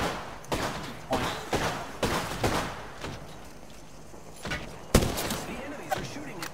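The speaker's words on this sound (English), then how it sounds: "The enemies are shooting at me." Enemy gunfire in the Apex Legends battle royale game comes as a series of sharp shots and short bursts, with clustered impacts and one loud crack near the end, while a voice talks over parts of it.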